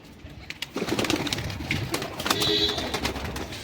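Pigeons coo in a low, continuous murmur, several birds close together sitting in the sun, with faint background noise and occasional rustling.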